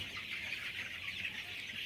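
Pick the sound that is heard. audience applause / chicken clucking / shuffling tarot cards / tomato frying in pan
chicken clucking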